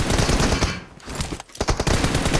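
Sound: gunfire in the video game PUBG Mobile

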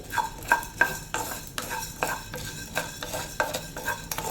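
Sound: stirring coriander seeds dry-roasting in a hot pan

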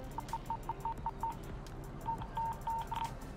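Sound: mobile phone notification tones

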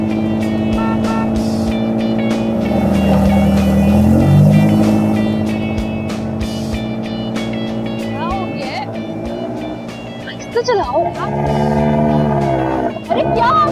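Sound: car being driven fast

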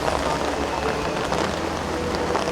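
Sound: heavy rain falling

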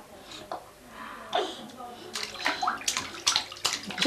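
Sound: water splashing in a bath

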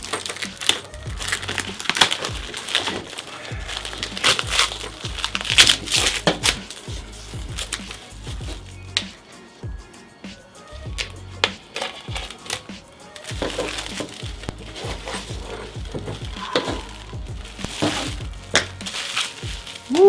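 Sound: unwrapping packaging of Creality CR-10S 3D printer part

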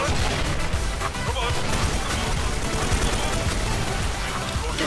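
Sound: grenade explosion in the Special Force 2 video game

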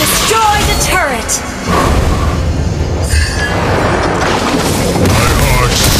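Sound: turret being destroyed, explosion in a video game

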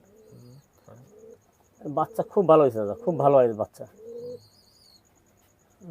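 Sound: Shiyalkuti pigeons cooing

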